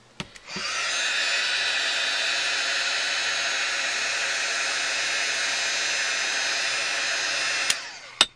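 A heat tool blows steadily and loudly for several seconds while drying a clear gesso coat, with a click as it switches on and off at either end.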